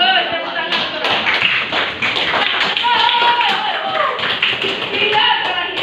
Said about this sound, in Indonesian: tepuk tangan untuk Rafa